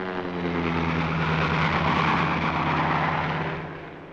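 A propeller airplane engine drones loud and steady at close range, holding a continuous roar with a harmonic hum that swells slightly and then fades toward the end.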